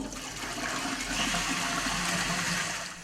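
An eco san toilet flushes with a steady, loud rush of water that swells and holds for about three seconds before easing off slightly, close and with no talk.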